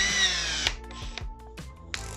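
Bit holder being changed on a Milwaukee M18 compact 1/2-inch drill driver: a few sharp clicks and ratcheting chuck sounds with brief mechanical whirs, close and fairly quiet, no talking.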